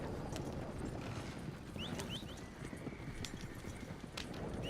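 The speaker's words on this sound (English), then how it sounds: "it's nice to roleplay and have your horse follow you" Horse hooves clip-clop in the Red Dead Redemption 2 video game, a steady walking rhythm of light, close hoof strikes over soft outdoor ambience, with a few faint bird chirps.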